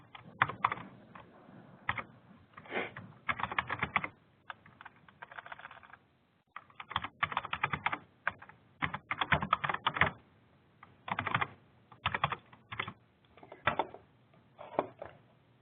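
Bursts of computer keyboard typing, fairly close, with short pauses between runs of rapid key clicks and no talking.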